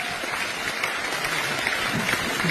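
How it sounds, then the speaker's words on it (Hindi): Dense, steady applause from a large audience at an RCM gathering: many hands clapping together at an even level for the whole stretch, with no voices standing out. "ताली बजा सकते।"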